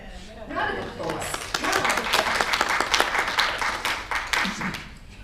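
Audience applause fills a room after a talk about a travel scholarship trip, a dense wash of many hands clapping that swells and holds steady for several seconds, with a few voices murmuring underneath.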